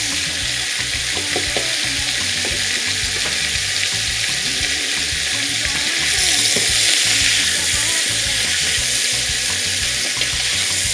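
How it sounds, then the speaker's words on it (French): Sliced onions fry loudly in a pan of browned oxtail, an intense, dense hiss that holds steady for about eleven seconds and swells briefly partway through, with no speech. "on va pouvoir ajouter les oignons émincés"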